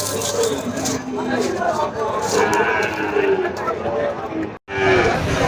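Cattle lowing at the busy Bhanguda cattle and goat market in Jessore, with moos rising over a dense crowd of voices and bustle. People talk throughout, and the sound cuts out briefly near the end.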